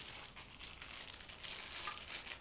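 A plastic bag crinkles and rustles steadily while bowls are handled during a soapmaking workshop clean-up, a soft, close crackling texture with no talk.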